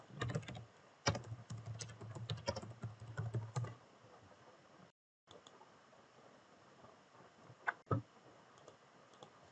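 Rapid clattering keystrokes on a computer keyboard while working on a Laravel PHP project, busy and close for the first few seconds, then sparser isolated clicks after a brief dropout.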